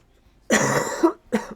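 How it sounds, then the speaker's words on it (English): A harsh cough bursts out close and loud, trailing into a rasp, then a second shorter cough follows a moment later, with no talking. "Oh, sorry, but that was a nasty ass cough."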